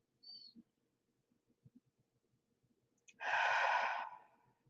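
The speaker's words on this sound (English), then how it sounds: "A couple of nice deep breaths in and out" Several slow breaths drawn in and let out during a guided morning meditation, with a soft early inhale and a long, broad exhale later on, faint and close against a quiet background.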